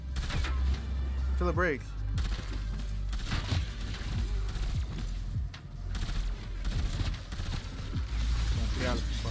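Gunfire in a Call of Duty zombies match on the Forsaken map comes as repeated shots and bursts throughout, mixed with game effects, while a player talks over the action.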